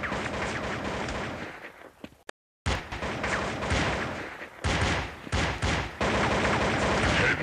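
Rapid gunfire in the mobile shooter Critical Strike CS, loud bursts of shots filling most of the stretch, broken by a brief silent gap and a few short pauses between volleys.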